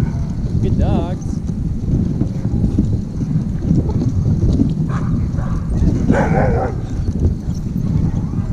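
Sled dogs pant and yip in short bursts over a busy outdoor rumble and wind during dog sledding in New Hampshire, with a person talking intermittently.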